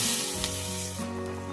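Water poured into a frying tomato and spice curry with potatoes sets off a loud, close, rushing sizzle that eases slightly after a second.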